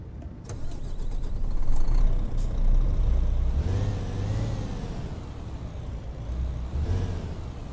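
A Cat C13 heavy truck engine in American Truck Simulator rumbles and revs up, rising and falling in pitch, with a hiss of air release near the start.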